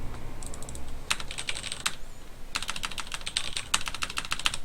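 Rapid computer keyboard typing in bursts, close and fairly loud, with short pauses between clusters of keystrokes during a StarCraft 2 session.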